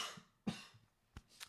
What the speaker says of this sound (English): I don't know what's going on with this cough